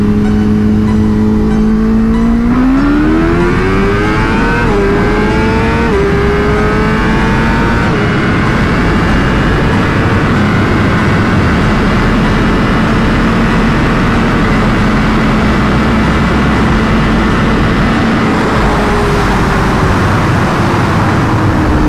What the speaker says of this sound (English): This bike is rowdy today.